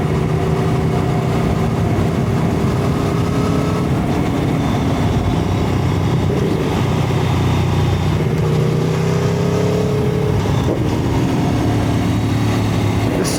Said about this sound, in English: Sound of it on the downshift as well with the flipper, it's amazing.